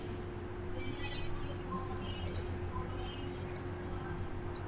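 Three separate computer mouse clicks at a steady pace, each crisp and close, over a low steady hum while working in Staad Pro software.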